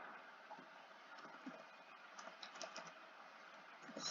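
Quiet typing on a computer keyboard, a soft, uneven patter of key clicks over a steady background hum.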